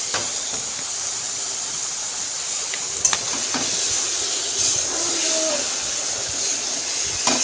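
Mutton pieces sizzle in hot spiced oil, giving a continuous loud hiss with a few sharp pops and crackles, with a faint clink near the middle and no talking.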